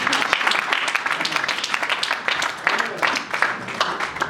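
Audience applause and cheering fill a festive pastoral gathering, a steady dense wash of clapping with voices mixed in throughout.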